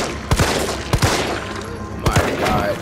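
Shotgun blasts in Resident Evil 3, three loud close bursts of two quick shots each, spaced about a second apart, with no talking over them.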